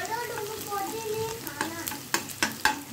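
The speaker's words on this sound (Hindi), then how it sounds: "मैं इसको प्याज को ब्राउन होने दूंगी। मेरा ये प्याज ब्राउन हो रही है" Chopped onions browning in a pan for a pasta dish, with a steady close sizzle and several sharp clinks and scrapes of a spoon stirring against the pan.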